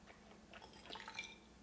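Hot coffee streams from a push-button thermal pot, a faint, close trickling and splashing of liquid lasting under two seconds.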